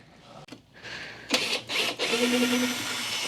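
A power driver backs a screw out of a Pride mobility scooter in short, fairly close whirring bursts separated by brief pauses, with no voices.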